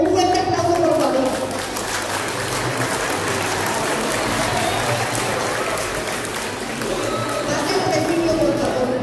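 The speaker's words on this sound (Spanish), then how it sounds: "Un fuerte aplauso, por favor." An audience at a Day of the Dead altar and costume contest in Mexico breaks into strong, steady applause that continues at an even, loud level for about nine seconds, thick with many hands clapping at once.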